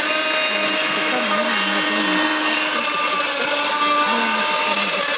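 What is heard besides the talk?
blender blending onion sauce for couscous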